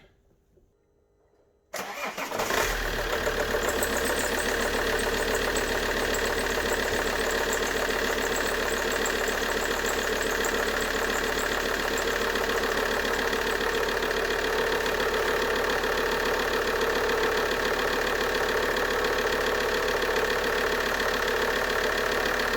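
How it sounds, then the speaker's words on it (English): After a brief quiet moment, an Alfa Romeo Brera engine cranks and catches, then settles into a loud, steady idle that continues to the end. "So now let's start the engine and see how it goes."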